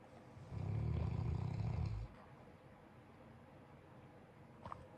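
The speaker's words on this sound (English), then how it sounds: "Hopefully you can hear me over the heater and the snoring" A deep, rumbling snore swells for about a second and a half, then fades into a steady background hum with faint rustling.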